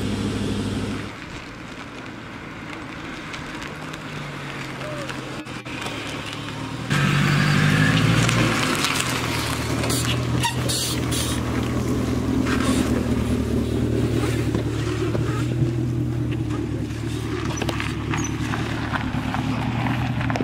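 A Ford Thunderbird fitted with a dually rear-wheel mod drives along at low speed, its engine and road rumble steady and close, swelling louder about a third of the way through and then holding a continuous drone.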